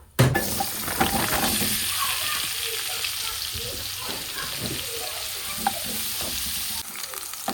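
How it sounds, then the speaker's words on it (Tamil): Paneer frying in a pan with continuous loud sizzling and crackling, with occasional stirring scrapes and knocks throughout. "ஸோ இதில் நம்ம பன்னீரை ஃப்ரை பண்ணிக்கலாம்"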